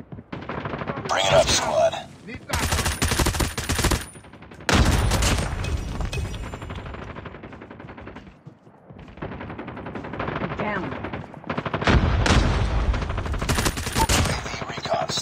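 Bursts of automatic gunfire in Call of Duty Mobile, loud and close, coming in several sustained volleys separated by brief pauses, with a short radio-style voice line in between.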